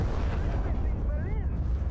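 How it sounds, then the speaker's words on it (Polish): A loud, continuous rumbling explosion in the video game Far Cry 3, booming steadily for about two seconds with dense low-end energy and a faint voice or tonal sweep riding over it. "Myślałem, że będzie bardziej wielki wybuch."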